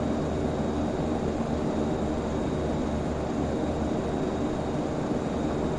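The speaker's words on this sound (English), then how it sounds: "You know, I'm flying a plane, Empire." A single-engine propeller plane flies in the Prepar3D v5 flight simulator, giving a steady, even drone of engine and airflow noise with no talk.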